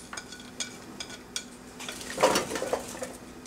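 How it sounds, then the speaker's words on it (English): Chopped vegetables tumbling into a large roasting pan, a few light clatters and knocks followed by a denser rattle of pieces landing together, close by. "we're going to take all our vegetables and toss them in our"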